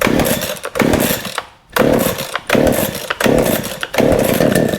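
A Baumr-Ag GCS6200 chainsaw that hasn't run in a while fires up after a pull start, its loud, buzzing two-stroke engine revving in repeated bursts with brief dips between them, close up and alone.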